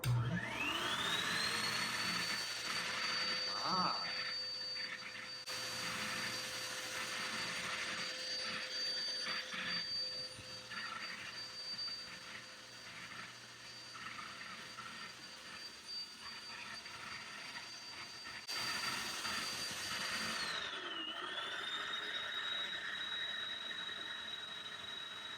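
A vacuum cleaner powered by a BLUETTI Elite 30 V2 power station whines steadily at high speed, a close continuous drone with a sharp pitch drop and recovery near the end.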